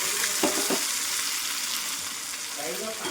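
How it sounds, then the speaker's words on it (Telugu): Onions frying in hot oil for an Andhra-style fish curry, a close, dense sizzle with a few stirring scrapes near the start and end. "ఉల్లిపాయ అయితే ఏగుతుందండి"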